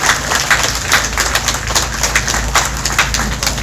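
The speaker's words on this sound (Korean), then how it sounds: "따뜻한 연대의 박수를 보내주시기 부탁드립니다" A crowd at an outdoor memorial gathering applauds loudly and steadily, a dense close patter of many hands with a low rumble beneath it and no talk.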